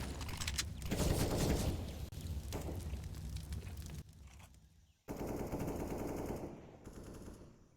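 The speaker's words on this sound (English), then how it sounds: "trying to go for the wallbang with the MP9" Rapid MP9 submachine-gun bursts ring out in a Counter-Strike esports match, several sustained volleys of dense automatic fire broken by short pauses, loud and close with no talk over them.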